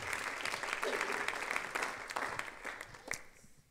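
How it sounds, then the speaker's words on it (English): A church congregation at a midweek service claps hands together, a warm burst of dense applause that gradually thins and fades toward the end. "Let's clap our hands for that."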